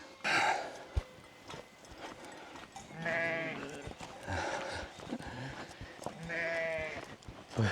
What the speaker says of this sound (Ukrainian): Йдемте зараз познайомимося з вівцями поближе, покормимо їх.